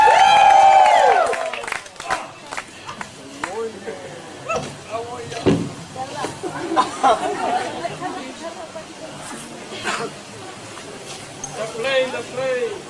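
Crowd of spectators at a Polynesian cultural show chattering and calling out in loud bursts as a tree climber goes up, with a host's voice rising over the noisy crowd.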